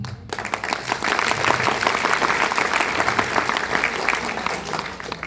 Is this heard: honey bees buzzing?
no